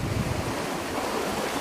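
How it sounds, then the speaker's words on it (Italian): Northeast trade wind of 15 to 18 knots over the Pacific Ocean north of the equator, aboard a sailboat bound from La Paz to the Marquesas; a steady roar of wind and sea wash, loud and constant, with no talk. "15, 16, 18 nodi di vento da nord-est di Alisei a nord dell'equatore."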